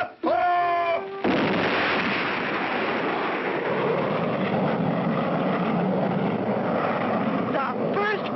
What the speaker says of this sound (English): Then came the final countdown. 2, 1, blast off!